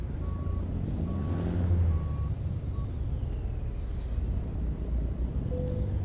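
A Kenworth Needle Nose truck in American Truck Simulator backs up with evenly spaced reversing beeps over a low, steady diesel engine rumble, and a short hiss of air brakes is released partway through.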